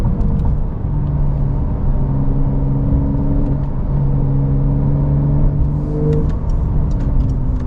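A 2024 Porsche 992 GTS in Sport Plus mode accelerates hard, rising engine tones sweeping upward through successive gears over a strong rumble of road and wind noise, heard loud from inside the car.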